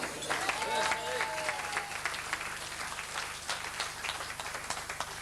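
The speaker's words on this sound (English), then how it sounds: "give a big round of applause" A crowd at a 1988 boxing night in Mayo, Ireland claps in dense, sustained applause, with a few whoops and voices mixed in over a low steady hum.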